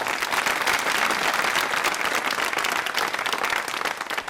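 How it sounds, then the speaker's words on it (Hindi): Loud, dense applause fills a studio audience on a Doordarshan quiz programme, many hands clapping steadily and close, easing slightly toward the end with no talk over it. "तालियां जोरों से बजाइए"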